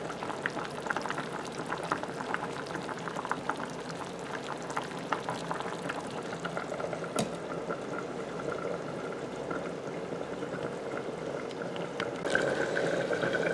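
A thickening sauce simmers and cooks out in a pot, giving a steady close bubbling and hissing that holds at an even level throughout, with a few faint clicks and no talk.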